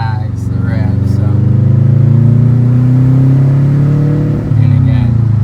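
Subaru WRX engine revving in first gear with a lagging rev, a loud, steady low engine drone that rises slowly and holds, close to the microphone.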